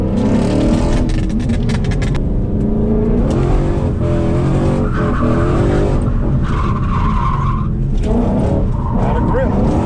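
A car drifts at a drift event, its tires squealing and skidding continuously for about ten seconds over a loud, revving engine, close and intense throughout.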